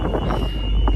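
Strong wind buffets the microphone outdoors in Vinddalen on the Bergen–Stavanger route, a steady loud roar with gusty swells filling the whole moment.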